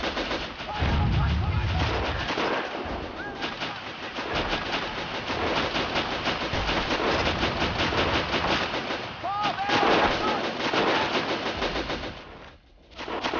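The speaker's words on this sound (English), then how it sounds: "I don't think these machine gunners know what they're even shooting at" Machine gun fire in the video game Battle of Empires: sustained, dense bursts of automatic gunfire with distant battle noise, running almost continuously and fairly loud, briefly dropping near the end.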